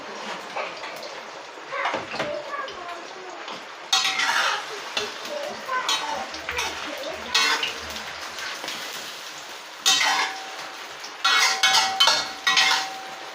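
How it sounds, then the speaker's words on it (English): Egg is stir fried in a hot wok with a continuous sizzle, broken by repeated loud bursts of spatula scraping and clanking against the metal, some in quick clusters, close and clear. "when oil become very hot, we put the egg into the wok."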